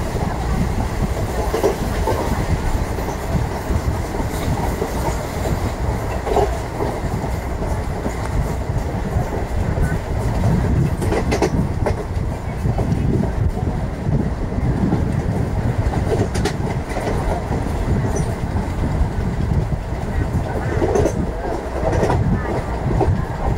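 Train 17231 Narasapur–Nagarsol heard from on board as it runs through Chirukoda halt at speed, a steady loud rumble with rhythmic clickety-clack of wheels over rail joints and occasional sharper rattles.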